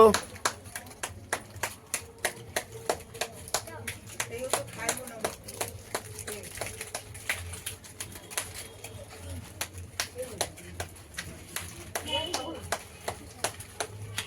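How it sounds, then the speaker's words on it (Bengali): Children clap their hands in a steady, rhythmic beat of sharp claps spaced roughly half a second apart, with voices talking underneath. "সবাই হাততালি দাও"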